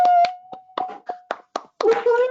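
Scattered claps from an online audience unmuted on a video call for an awards celebration, about seven separate, uneven hand claps over a steady tonal hum, followed by voices cheering at the end.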